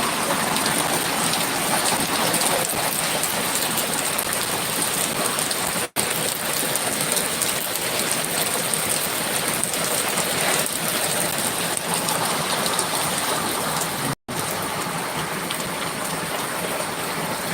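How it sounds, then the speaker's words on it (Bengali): Heavy morning rain falls just outside a window in a loud, unbroken wash of hiss and patter that runs on steadily, cut by two brief momentary dropouts, with no voices. "এই দেখেন জানালার পাশ দিয়ে আমি বৃষ্টিটা ছুঁয়ে ছুঁয়ে দেখছি"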